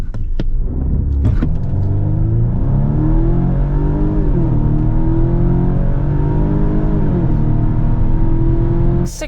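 A 2023 Volvo V60 Cross Country wagon's engine revs up through the gears to 65 mph, pitch climbing and dropping at each shift, loud and close from inside the vehicle.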